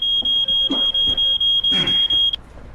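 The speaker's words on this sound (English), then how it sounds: "Your pipe set the smoke alarm off." A smoke alarm set off by pipe smoke beeps in a fast, even series of about ten piercing high tones, loud and close, before cutting out.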